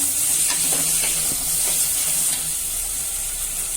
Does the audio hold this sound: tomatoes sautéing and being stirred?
yes